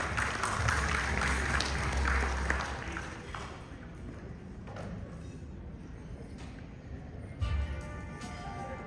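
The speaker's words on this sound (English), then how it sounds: "Big round of applause, ladies and gentlemen." Applause from a conference audience at a leadership and professional women's awards event, moderately loud at first and thinning into scattered claps, with a brief burst near the end.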